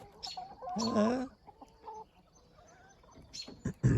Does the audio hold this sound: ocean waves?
no